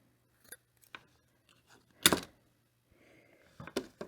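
Scissors snip through lace in a few quiet, close, separate cuts, one crisper and louder than the rest, with no voices.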